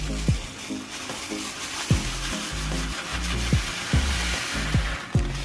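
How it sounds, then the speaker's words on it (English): Sago pellets pour and patter into boiling water, with repeated soft splashes and a steady simmering hiss throughout. "So you just pour the sako in the boiling water."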